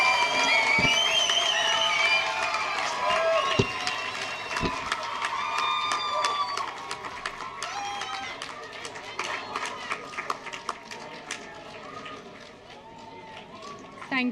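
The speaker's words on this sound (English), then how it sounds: "Give yourselves a clap." New graduates at a university graduation ceremony clap and cheer in a large crowd, with shouts, whoops and scattered sharp claps that gradually thin out toward the end.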